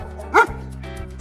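A single short dog bark rings out clearly, followed by a faint low hum and a small trailing yip near the end.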